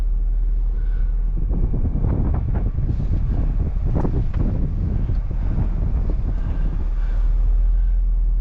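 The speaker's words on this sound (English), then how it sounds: "it's a bit windy up here" Strong wind buffeting the microphone on an alpine mountain pass in Colorado, a loud continuous low rumble with gusty surges throughout and no clear talk.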